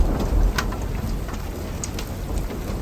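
Heavy hail and rain pounding steadily on a surface along the Mickelson Rail Trail in South Dakota, a dense, continuous close roar with sharp impacts and low thunder rumbling underneath.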